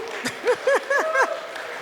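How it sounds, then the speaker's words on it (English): At a church gathering, audience members answer with rising 'woo' whoops and cheers, several voices calling out in quick succession over light clapping, moderately near. "Let me hear a hand clap or a woo-woo"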